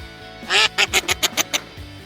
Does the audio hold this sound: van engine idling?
no